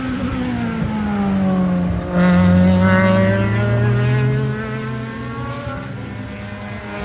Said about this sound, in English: try to push start that race car over there.